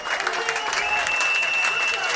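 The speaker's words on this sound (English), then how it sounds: "Crowd's starting to get into it a little bit for the Maroons" Home crowd at a UChicago versus Elmhurst college soccer match, a steady broad wash of cheering and applause that holds at an even level throughout, with no clear speech over it.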